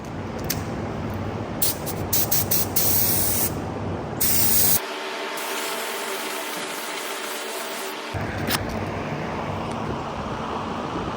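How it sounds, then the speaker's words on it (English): A spray gun lays PPG epoxy primer onto bare prepped metal, a loud continuous airy hiss with a few brief interruptions and one longer break partway through. "I'm gonna mix up some epoxy and go ahead and get it on there"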